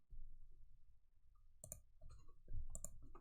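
Keyboard typing of an email body: sparse, quiet clusters of key clicks arriving in short bursts after a near-silent start, close and faint with no talking.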